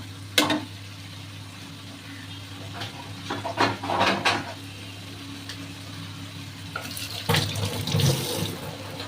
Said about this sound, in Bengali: ধোয়াধুয়ি করে করে আমি শেষ।